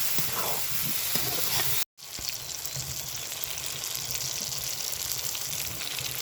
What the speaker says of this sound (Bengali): এইবার দিয়ে দিব ভেজে রাখা আলু এইভাবে কষে নিব আলুটা